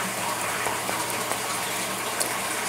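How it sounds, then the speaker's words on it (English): Water draining from a tank in a steady, loud, continuous gushing rush with no breaks, heard alone without talk. "the tank is draining"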